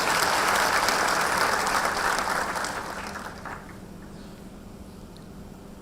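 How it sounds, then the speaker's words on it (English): Audience applause at a science fair awards ceremony, a loud sustained round of clapping from a hall crowd that tapers off after about three seconds into quieter room noise. "I think that deserves a round of applause as well."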